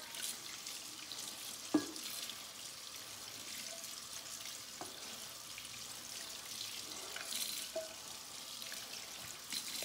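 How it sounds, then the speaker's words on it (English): Hot tap water runs steadily into a sink while a sanded tumbler is rinsed, a soft continuous hiss and splash with occasional light knocks of the cup against the basin. "now I'm just gonna rinse it off."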